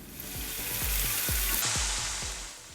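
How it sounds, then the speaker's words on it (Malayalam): Potato pieces for crispy French fries frying in hot oil, a steady loud sizzle with repeated low knocks of stirring or tossing, no talking. "എണ്ണ ശരിക്കും ചൂടായി കഴിയുമ്പോൾ നമ്മൾ എടുത്തു വച്ചിരിക്കുന്ന ഉരുളക്കിഴങ്ങിൻ്റെ കഷ്ണങ്ങൾ നമുക്കൊന്ന് ഫ്രൈ"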